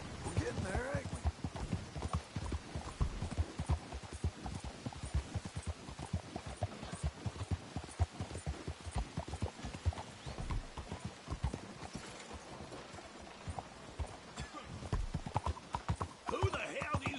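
Horse hooves clip-clop in a quick, steady rhythm as a horse is ridden in Red Dead Redemption 2, close and continuous, with a brief whinny and speech over the hoofbeats.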